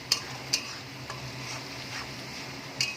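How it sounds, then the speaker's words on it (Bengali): Ginger-garlic paste goes into a hot pan, giving a faint, steady sizzle with a few light metallic taps and scrapes of a stirring utensil. "আদা রসুনের পেস্ট আমি দিয়ে দিলাম।"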